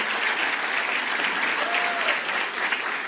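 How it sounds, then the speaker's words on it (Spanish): A church congregation applauds loudly and steadily, a dense wash of clapping hands filling the space for the whole stretch, with a faint voice briefly audible underneath. "Del otro fuerte aplauso al Todopoderoso."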